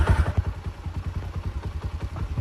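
A motorcycle engine runs close by at idle, a steady rhythmic thumping putter of even firing pulses throughout.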